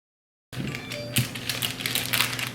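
A knife cuts a cucumber in half on a cutting board, giving a few close, sharp taps and thuds over a soft background.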